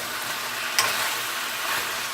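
Chicken fries in a pan with a steady, close sizzle and hiss, broken once by a brief utensil clink early on.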